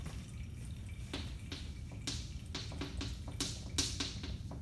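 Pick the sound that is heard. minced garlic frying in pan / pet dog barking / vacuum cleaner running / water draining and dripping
water draining and dripping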